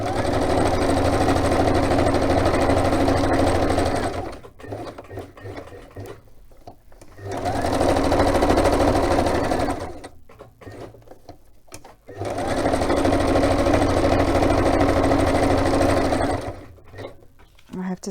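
A sewing machine stitching in three long, steady runs of loud, close mechanical whirring and rapid needle chatter, each run separated by a quiet pause of a few seconds.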